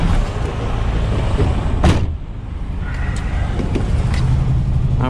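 A semi-truck tractor unit on a European haul starts up and runs, its engine a steady, close, loud rumble with a brief clunk partway through.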